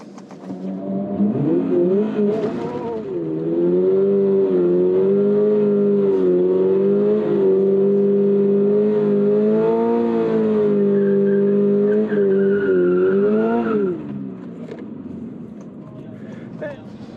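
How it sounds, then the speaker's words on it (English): A project car bought to replace a GR Yaris holds a burnout, its engine revving hard and steadily for about ten seconds with tire noise, rising at the start and dropping away near the end, loud and close. "I'm going to try a burnout in this car."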